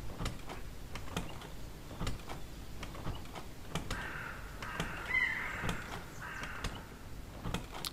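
Crows caw in the Hello Neighbor 2 video game: several hoarse calls cluster near the middle over a steady background hum and scattered soft clicks, moderately close.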